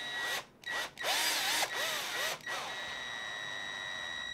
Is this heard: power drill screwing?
yes